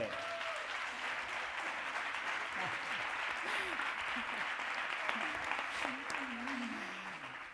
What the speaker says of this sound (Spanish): Fuerte el aplauso para Silvia Berenguer.